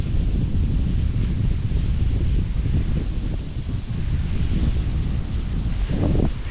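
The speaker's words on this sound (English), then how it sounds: "Yeah, the wind is picking up." Strong wind gusts roar steadily across an outdoor ancient Japanese stone temple site on a dark, ominous day, buffeting the microphone with deep rumbling noise throughout and no voices.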